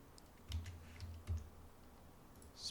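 Commands are typed on a computer keyboard while drawing in Rhino 6, with a few soft, close key taps and clicks in a quiet room.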